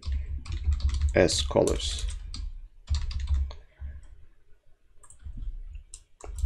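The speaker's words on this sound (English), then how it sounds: "So let's type uniform sampler 2D" Rapid computer-keyboard typing as shader code is entered, crisp clustered keystrokes in bursts near the microphone, with a person talking over part of it.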